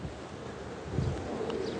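Soft, low cooing from hobby pigeons in Brooklyn rises briefly over a breezy, hissing outdoor background.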